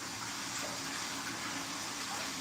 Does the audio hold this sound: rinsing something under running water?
yes